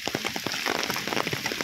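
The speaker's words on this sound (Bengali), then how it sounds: "এই বাড়তেছে যে বৃষ্টি" Rain falling steadily as a dense, even patter of drops on surfaces, close and continuous for a brief moment with no voices.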